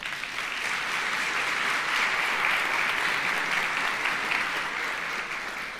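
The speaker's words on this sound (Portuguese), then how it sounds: "Uma salva de palmas para o Davi." Steady, full applause from a seminar audience congratulating a participant named Davi, sustained dense clapping at even loudness that tapers slightly at the end, heard alone without voices.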